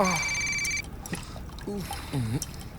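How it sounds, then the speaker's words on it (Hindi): A telephone rings in a bathroom with a high, steady electronic bell, then cuts off as someone talks with trickling water in the background. "अरे कौन है जो बाथरूम में भी फोन कर रहा है?"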